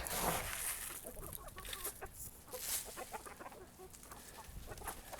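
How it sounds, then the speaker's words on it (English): Farmyard chickens clucking nearby as they gather at scattered seed, a steady overlapping chatter of several birds with no talk. "let me call them in and I'll show you some chickens"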